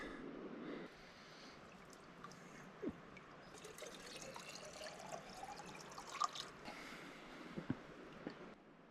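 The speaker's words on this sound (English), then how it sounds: "just going to fill up our water at the Pure Spring" Water trickles from a pure spring along a forest canoe-trip trail in Temagami backcountry, a faint, steady dribble with scattered soft drips and splashes, no talking.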